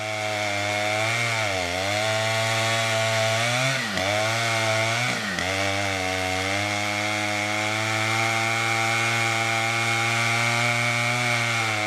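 A chainsaw cutting down a tree during logging runs loud and steady throughout, its engine pitch dipping briefly under load a few times as the blade bites into the wood.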